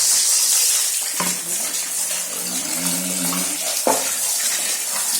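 A washing machine part being rinsed under a running tap: a loud, steady stream of water splashing close up throughout, with a few brief knocks as the part is handled.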